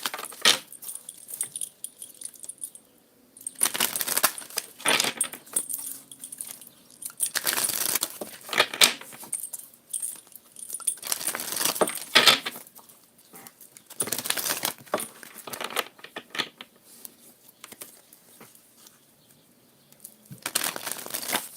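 A brand-new deck of playing cards is shuffled over and over, giving bursts of crisp riffling and clattering card slaps in an irregular rhythm, close and fairly quiet, with no talk.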